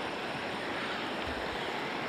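Floodwater from a flash flood rushes through a village as a steady, broadband roar of turbulent flow, loud and continuous throughout with no voices.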